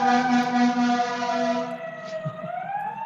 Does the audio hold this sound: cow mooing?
no